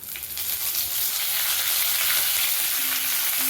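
Mustard seeds, cumin, urad dal, a broken dried chili and curry leaves fry in hot oil for a spinach tempering, giving a dense, steady crackling sizzle that is close and loud, with no talking.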